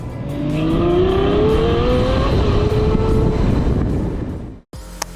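A Ferrari F12 Berlinetta's V12 engine roars loud and close as it accelerates on the road, pitch rising steadily through the gears before cutting out abruptly, followed by a brief click.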